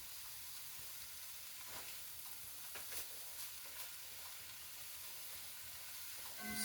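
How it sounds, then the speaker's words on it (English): Thawed frozen cauliflower rice frying in a pan for chicken fried cauliflower rice, giving a quiet, continuous sizzle with soft scraping of stirring throughout. "Now listen, I'm going to put my cauliflower rice in."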